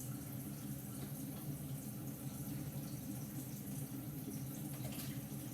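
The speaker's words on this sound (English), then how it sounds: "my water is running in my sink" Tap water runs steadily into a kitchen sink in a continuous, faint, even rush without pauses, no voices present.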